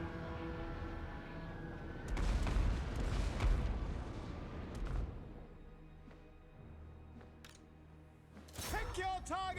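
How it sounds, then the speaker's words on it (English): Mortar artillery fire in Total War: Warhammer 2, deep booming blasts and rumbling impacts in the middle of a battle, mixed with shouted unit voices and game sounds. "Oh man, I love me some mortars."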